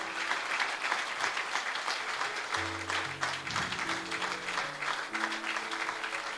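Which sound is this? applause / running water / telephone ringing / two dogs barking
applause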